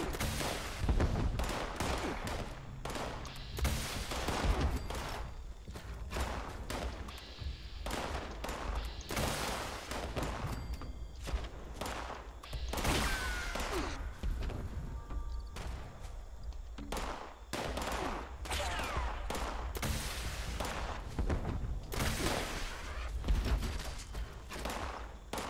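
Rapid, dense gunfire from the video game Fallout 76 runs almost without pause: sharp shots and quick bursts repeat steadily at a fairly close, even loudness.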